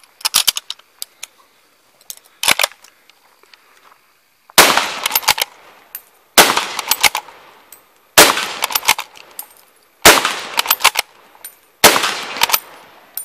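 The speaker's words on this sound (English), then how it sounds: "So shooting very fast for bolt action." A French MAS 36 bolt-action rifle fires rapid, loud outdoor shots in tight clusters, each burst sharp and echoing, with short pauses between strings as the bolt is cycled.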